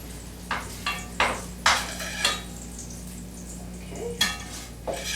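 Pancetta frying in a pan, heard as a run of short, close utensil scrapes and clatters against the pan over a faint, steady background hiss, with no talking.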